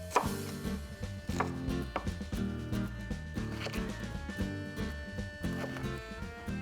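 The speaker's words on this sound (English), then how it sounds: "The cabbage has the core. Let's remove the core." A knife cuts the core out of a head of cabbage, giving a few crisp, close chopping knocks and crunches over a steady background of music.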